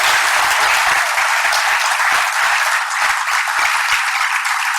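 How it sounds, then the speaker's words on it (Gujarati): An auditorium audience at a literary event honoring Kumarpal Desai bursts into loud, sustained applause, a dense wash of many hands clapping throughout. "ખૂબ તાળીથી એમનું સન્માન કરીએ"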